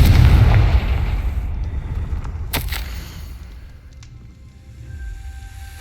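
A loud explosive blast from the Confringo spell in Hogwarts Legacy booms at once, then rumbles and fades away, with a few sharp crackles in the decay.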